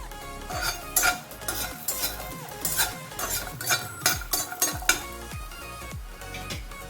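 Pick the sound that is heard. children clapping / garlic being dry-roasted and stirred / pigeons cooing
garlic being dry-roasted and stirred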